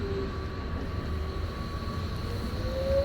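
A city tram or train, route number 50, rolls past with a steady low rumble and a faint high tonal whine from the wheels and motors, continuous and close, no talk over it.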